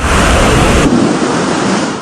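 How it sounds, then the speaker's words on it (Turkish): Thunder rolls over heavy rain during a storm in Istanbul, a loud, steady wash of rainfall with a deep rumble that eases partway through, no voices. "Yağış gök gürültüsü ve şimşeklerle birlikte başladı."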